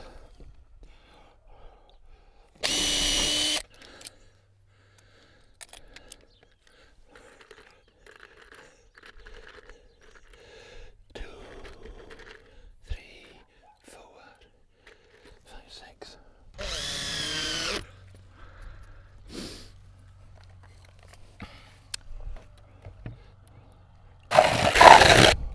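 A cordless drill drives screws into windbreak fencing in short separate bursts, each a second or two long with quiet gaps between, and the last bursts are the loudest. Faint outdoor background and some low murmuring run underneath.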